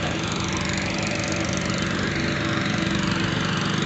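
A lawn mower engine drones steadily nearby, loud and continuous with a buzzing, rough hum and no voices.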